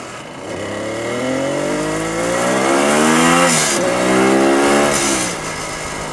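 An old car engine running after burning off excess oil, revving up and easing back in smooth swells while the car drives along back streets, loud and close with no talk.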